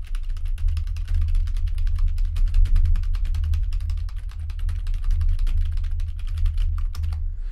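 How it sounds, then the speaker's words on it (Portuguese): Rapid, continuous clacking of keys typed on a fairly quiet computer keyboard, close to a HyperX SoloCast USB microphone, over a low steady electrical hum. "teste de teclado, né, que é pegar aqui e usar o teclado e ver o quanto o microfone capta"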